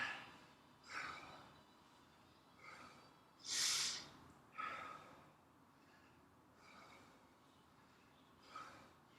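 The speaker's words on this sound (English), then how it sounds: "Still controlling that breathing, settling the heart rate down." Controlled breathing during a floor stretching routine: several soft, airy inhales and exhales spaced a second or two apart, one breath noticeably stronger than the rest, all faint and close with no talking.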